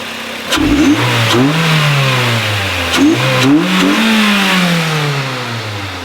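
A Mazda MX-5 NC engine revs up in several rising and falling bursts, loud and close, with a steady rumble between the surges.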